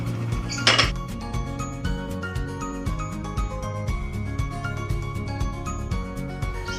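Cleaned eel meat is put into a casserole pot for Filipino adobong palos, with a busy run of close metallic clinks and clanks of utensils against the pot and a brief scraping burst early on.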